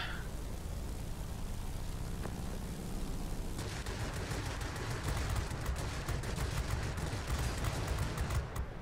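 Aircraft machine guns fire in World of Warplanes: a dense, rapid rattle of bursts with an engine drone underneath, growing sharper and more crackling partway through and continuing to the end.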